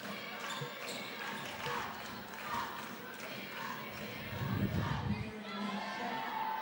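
Excited crowd noise from a large student section at a women's basketball game, a steady roar of voices and cheers that swells louder near the end, with other voices talking over it.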